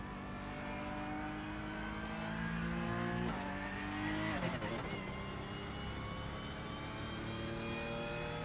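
A safety car engine drones steadily in a sim racing game, a loud, continuous whine that shifts pitch slightly partway through, with no talk over it.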